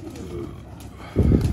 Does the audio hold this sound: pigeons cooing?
yes